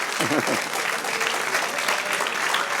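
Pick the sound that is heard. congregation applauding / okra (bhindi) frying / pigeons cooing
congregation applauding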